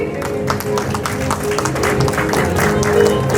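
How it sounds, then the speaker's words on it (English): Audience applause fills a school's annual prize distribution for 2023, a steady broadband patter of many hands that keeps going for the full stretch, with a faint tonal hum running underneath. "Keep clapping."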